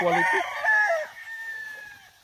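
Gamefarm roosters at Tres Marias crowing loudly up close, one drawn-out crow fading into softer clucks and a second distant crow, with no talk.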